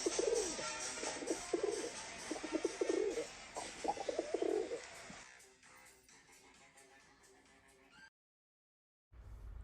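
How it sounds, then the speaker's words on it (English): A pigeon coos softly in repeated low bursts aboard a subway train, faint against the rumbling carriage, before the noise drops away and briefly cuts to silence. "Even the occasional pigeon came along for a ride."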